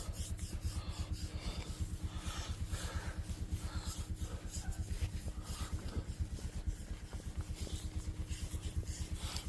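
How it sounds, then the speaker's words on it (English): A cow's head being scratched, heard as a close, fast, steady rasping rub with an even back-and-forth rhythm that runs throughout with no talk. "She likes head scratches."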